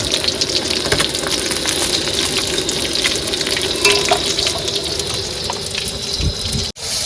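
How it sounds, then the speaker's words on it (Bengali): Bhetki fish sizzling in hot oil nearby, a continuous loud crackle with bursts of spattering and a brief clatter near the end. "মাছ ভাজা হয়ে গেছে বন্ধুরা এবার তুলে নেবো"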